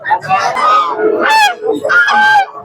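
Geese honk loudly and repeatedly at a Hasnabad duck and chicken market, a series of harsh nasal calls close by with faint crowd noise beneath.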